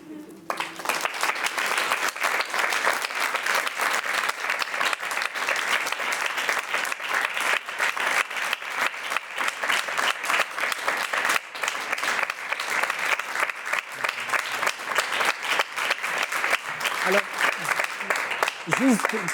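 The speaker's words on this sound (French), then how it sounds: "Je crois qu'on peut s'applaudir." An indoor audience applauds after a solo theatre reading in a cultural centre, with dense continuous clapping held steady for nearly twenty seconds.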